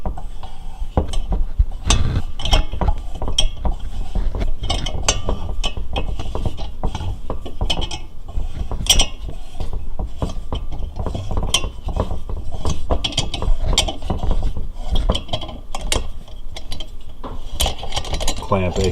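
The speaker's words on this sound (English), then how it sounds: "Clamp, aka valve spring compressor." Dense metallic clicking and clattering while a valve spring compressor clamp is worked and released on a Porsche 912 engine during a valve rebuild, close and busy throughout with no break.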